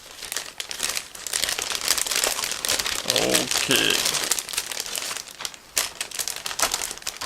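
Crinkly plastic bag being opened and handled, a steady crackle of film around ICM 1/32 Bu 131D model kit parts on sprues, with a short spoken word over it.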